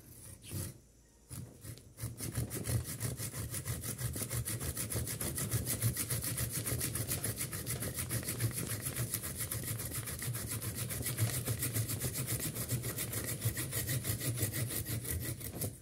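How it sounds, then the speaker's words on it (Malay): Rhythmic back-and-forth rasp of a hand saw cutting through a bougainvillea branch, steady strokes after a brief pause at the start, close by. "Banyak agak besar kita guna gergaji ya teman, kita potong ya."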